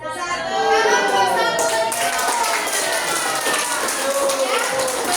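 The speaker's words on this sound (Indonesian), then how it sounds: "kita berikan tepuk tangan kepada kelompok tadi yang paling bagus" A classroom of pupils claps for the best-performing group: a dense, steady patter of many hands that holds evenly from start to finish at close range.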